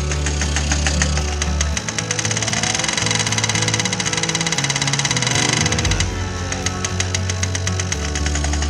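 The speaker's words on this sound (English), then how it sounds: "Sounds a lot better actually now that carb cleans." A 1983 Honda Express II NC50 moped engine runs after a carburettor cleaning, a loud, close, steady two-stroke buzz with rapid ticking pulses and its pitch shifting up and down as the throttle changes, with no voices.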